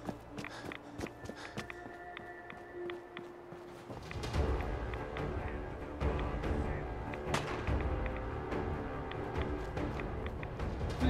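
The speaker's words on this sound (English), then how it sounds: "What are they shooting at?" Gunfire and combat in Fallout 4; quiet background at first, then a dense rumble of shots and blasts sets in midway and continues with scattered sharp bangs.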